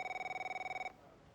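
A telephone rings inside the F1 23 racing game, a rapid trilling electronic ring with fast warbling pulses that cuts off abruptly after about a second, leaving quiet background hum.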